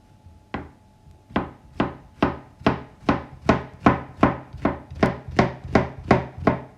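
An onion being finely chopped with a knife, a steady run of about a dozen crisp, evenly spaced cuts on a board, close and clear with no talking.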